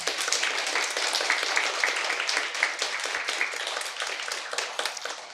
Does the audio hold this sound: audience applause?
yes